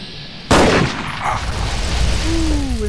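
An incinerator weapon in Fallout 3 fires with one loud, sudden blast that rolls into a sustained roaring burn and fades under lingering hiss, with no voices.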